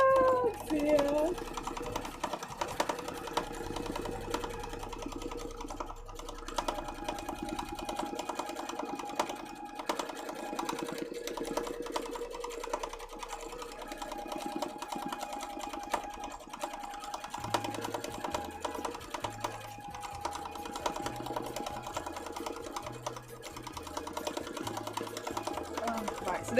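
A sewing machine stitching, building up thread in a hoop for cosplay work, its rapid mechanical whirring running in bursts under ongoing talk, with a rhythmic pulsing chug toward the end.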